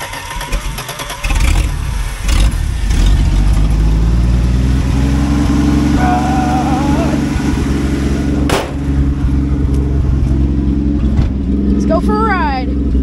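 A 1967 Plymouth Valiant engine runs loud and steady at idle, then revs up and settles again, with people talking over it.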